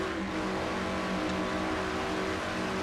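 Race car engine in a NASCAR-style Brickyard 400 video game race, a loud sustained high-revving drone heard from the in-car view, holding steady at speed with no talk over it.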